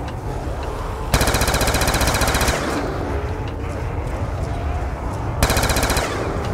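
AK rifle fire in a zombies video game, two long automatic bursts of rapid, evenly spaced shots, loud and close, separated by a stretch of quieter game ambience.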